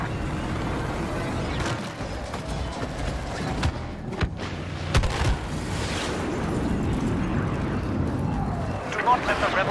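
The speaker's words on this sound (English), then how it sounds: "Bombers are making their attack run." Explosions from bombers making an attack run rumble through a Star Wars Battlefront battle, a dense, continuous low roar with scattered sharper blasts and cracks beneath game chatter.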